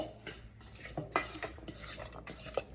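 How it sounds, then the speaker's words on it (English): A chickpea salad stirred in vinaigrette with a metal utensil in a bowl, giving a series of close, bright scraping clinks in quick irregular strokes, with no talking. "Give it a good stir in that vinaigrette that you just made."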